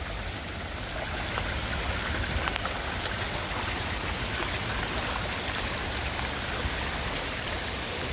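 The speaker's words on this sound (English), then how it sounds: "Man, it's raining hard" Heavy rain pours steadily outside near a sump pump discharge during a storm, a loud, dense, continuous hiss and patter with no pauses and no voices.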